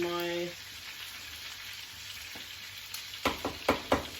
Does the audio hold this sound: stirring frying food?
yes